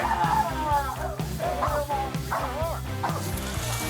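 A police canine barks in short repeated bursts during a search for suspects hiding under a house and in a van, the barks loud and close over a thumping musical bed with some yips mixed in.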